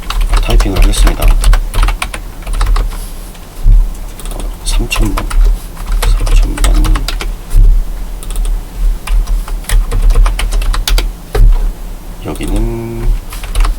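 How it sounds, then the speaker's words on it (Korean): Keys clatter steadily on a computer keyboard in quick irregular bursts, heard close and mixed in with ongoing talk. "타이핑을 하겠습니다."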